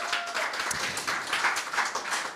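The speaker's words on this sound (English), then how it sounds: "If yes, make some noise of applause." A conference audience applauds with a dense, steady patter of many hands clapping, moderately loud and continuous for a couple of seconds.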